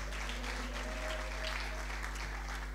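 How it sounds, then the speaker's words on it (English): An audience at an anniversary celebration in Kenya claps steadily for the organizations being named, a continuous even wash of applause with no pauses. "you at least clap for them"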